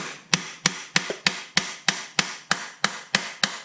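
Hammer blows strike a wheel bearing being driven into the hub of a Mercedes C300 4matic, about eleven sharp metallic whacks in a steady rhythm, loud and close with no talking.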